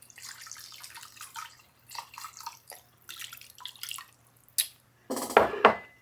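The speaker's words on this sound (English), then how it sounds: "we're going to add 1 cup of water to that" Water trickles and splashes in short bursts, ending with a louder pour into a pot, close and fairly quiet.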